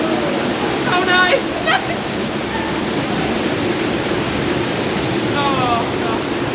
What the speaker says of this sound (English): Just got a little refreshing splash, didn't we?